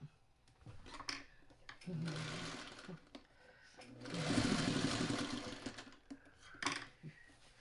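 A sewing machine stitches a quilt with fussy corners in bursts of rapid mechanical whirring, stopping and starting several times, with a person speaking between runs.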